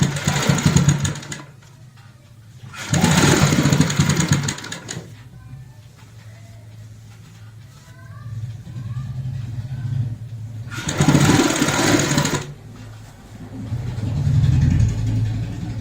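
A sewing machine stitches over the frill seam of a round cushion cover in three loud, close whirring bursts, separated by quieter stretches of handling noise.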